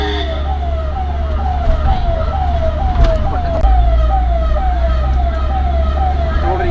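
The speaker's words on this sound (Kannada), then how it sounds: "NTTF ಹತ್ತಿರ ಆಂಬ್ಯುಲೆನ್ಸ್ ಹಿಂದೆ ಬರ್ತಾ ಇತ್ತು ಸಿಎಂ ಸಿದ್ದರಾಮಯ್ಯನವರ ಗಾಡಿ ಹಿಂದೆ" An ambulance siren wails in a fast repeating sweep near NTTF, following the Chief Minister's car, loud and close over heavy traffic rumble and engine noise.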